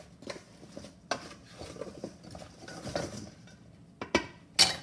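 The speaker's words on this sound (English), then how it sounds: "take a spoon, I'm going to mix it all up" A spoon mixes roasted apples with nutmeg and ginger in a bowl, making intermittent scrapes and clinks against the dish, ending in two sharper knocks, with no talking.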